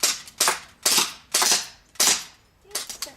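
Rapid, close airsoft gunshots in a zombie-themed airsoft game, six sharp cracks spaced roughly every half second, each with a short bright snap and quick decay.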